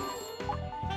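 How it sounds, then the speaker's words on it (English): Telephone ring from the video game Layton Brothers Mystery Room: a bright, steady electronic ringing tone with a couple of repeating chime pulses, sitting close and clear within a one-second stretch of game music. "Oh, that's the phone. I'll get it."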